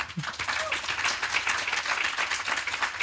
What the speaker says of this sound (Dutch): Mag ik een applaus voor Jennifer Ann?